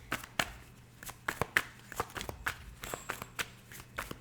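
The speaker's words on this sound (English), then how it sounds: "May I have another card for my Pisces?" Tarot cards being shuffled in a series of crisp, close riffling snaps and slaps, repeated at an uneven rhythm over quiet room tone.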